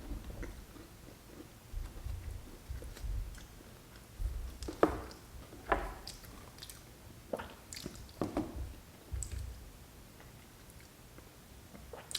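Crunchy tomato rosemary focaccia with a crisp bottom crust being chewed close to the mic, with irregular wet bites and crunches spread across the stretch, louder bursts mid-way and no talking.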